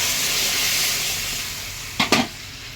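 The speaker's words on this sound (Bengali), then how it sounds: "এখন দিয়ে দেবো দেখো সিদ্ধ করা এই যে মুগের ডালটা দিয়ে সম্বারটা দিয়ে দেবো দেখো" A steady hiss of frying spices in a pan gives way to two quick, sharp splashes as boiled moong dal is poured in, close and without speech.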